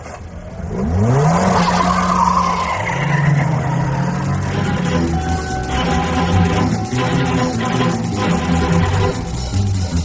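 A car in a radio drama pulls away with tires skidding and squealing, rising pitched screeches over a loud engine roar that carries on steadily for several seconds.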